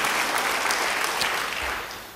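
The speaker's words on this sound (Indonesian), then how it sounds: "Yang percaya beri tepuk tangan bagi dia." A church congregation claps together in a short, full burst of applause, steady and fairly loud, tapering off toward the end.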